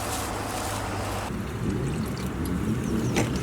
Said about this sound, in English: One hot shower coming up.